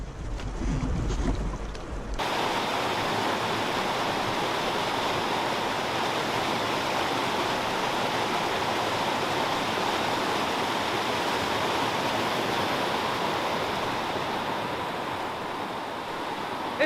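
Rough water rushes steadily at a bend in a river, a continuous loud churning wash heard close from a canoe, preceded by a short burst of wind-buffeted handling noise.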